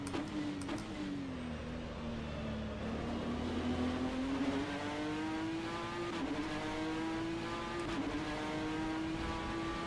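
A BTCC NGTC touring race car engine in the racing sim rFactor 2 drones steadily, its pitch sliding up and down as it revs and shifts, with no talking over it.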